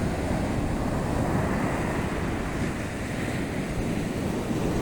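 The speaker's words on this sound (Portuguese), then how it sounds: "O mar está ali" Sea surf rolling onto a sandy beach beside a small lagoon, a constant loud roar of breaking waves mixed with strong wind buffeting the microphone.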